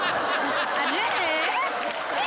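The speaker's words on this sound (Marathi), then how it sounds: "जोरदार टाळ्या प्रेक्षक" Studio audience clapping at a Marathi comedy show during an award presentation, a broad continuous patter with bits of laughter and a voice talking over it.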